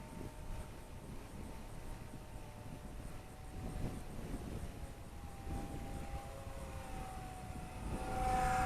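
Small Eachine Mini P47 Razorback 500mm gyro-stabilized RC plane with an electric motor, flying slowly downwind in gusty wind. It gives a steady thin whine over broadband wind noise that grows louder toward the end.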